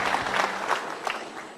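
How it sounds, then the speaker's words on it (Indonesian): Studio audience at an Indonesian television talk show breaks into a short burst of fairly quiet, steady applause. "sekali tepuk tangan dong"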